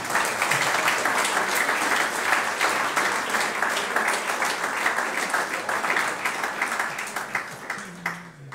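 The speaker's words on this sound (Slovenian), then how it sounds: "Še enkrat velik aplavz z vaše strani" An audience applauds at a school awards ceremony in Ravne na Koroškem, with sustained, dense clapping that stays loud and even before thinning out near the end.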